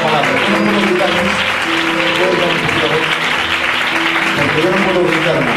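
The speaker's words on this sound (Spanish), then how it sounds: "Vamos a darle un fuerte aplauso al Señor." A church congregation applauds at a Spanish-language worship service, loud continuous clapping mixed with voices and a sustained musical or sung tone underneath.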